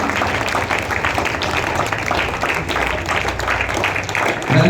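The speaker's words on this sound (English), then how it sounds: "Everybody, give a big round of applause." A crowd at a school assembly claps in sustained, dense applause that continues evenly throughout, loud and close.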